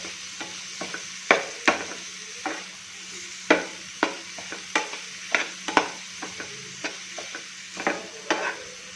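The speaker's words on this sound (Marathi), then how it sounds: "एक बारीक चिरलेली शिमला मिरची हे आता आपण बटरमध्ये छान मिक्स करून घ्यायचे" Finely chopped capsicum and carrot are stirred in sizzling butter, a soft steady fry under repeated sharp spatula taps and scrapes against the pan in an uneven rhythm.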